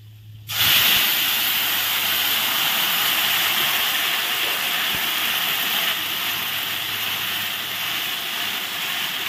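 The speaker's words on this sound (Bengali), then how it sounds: "একই তেলে আমি দিয়ে দিব এখন টমেটো পেস্ট।" Tomato paste hits hot oil already used for a black cumin and dried chilli tempering, bursting into a loud, steady, close sizzle that continues almost unchanged to the end.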